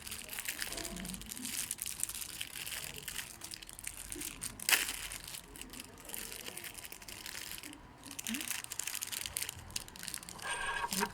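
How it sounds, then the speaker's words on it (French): Crinkling plastic wrapping around sausages, rustled inside a bag, crackles steadily and faintly at close range for several seconds, with one sharper crunch partway through. "J'ai horreur de faire du bruit avec des saucissons."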